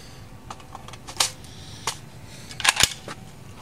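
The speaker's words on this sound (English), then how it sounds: "my brother's gonna get some airsoft target practice." Airsoft gun fired at targets in a backyard: several sharp, light cracks in an irregular sequence, with a quick double shot near the end, fairly close and alone without talk.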